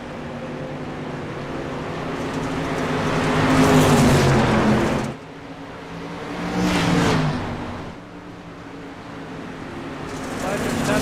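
Race car engines in a sim racing game at a Knoxville heat race, a steady droning roar that swells and fades as cars pass, with a commentator talking over it.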